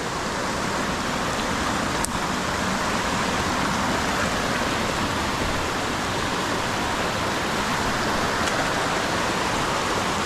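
Steady, dense rushing of a brush-choked Southern California creek, continuous and close with an even roar and no talking.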